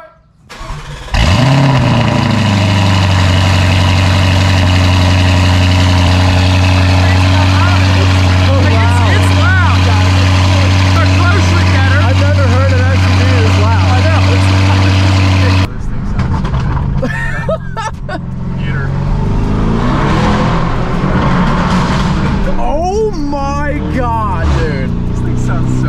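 A car engine cranks and catches, then settles into a loud, steady idle close by; midway the sound shifts to rougher revving while people talk over it.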